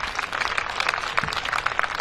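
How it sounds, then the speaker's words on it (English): Applause for polo player Pranav Kapoor at the finals of the Yes Bank Indian Masters polo tournament, a short, moderately loud patter of clapping from a crowd with no speech over it. "A big round of applause for Pranav Kapoor."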